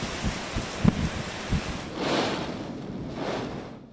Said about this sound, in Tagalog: Mabangis at tila umaalulong ang hangin sa Santa Ana, Cagayan kagabi.